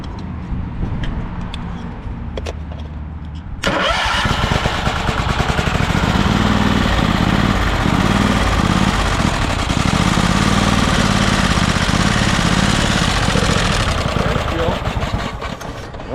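An old, beat-up tractor engine cranks and catches on choke after a few seconds of quiet, then runs at a loud, steady, rough idle close by.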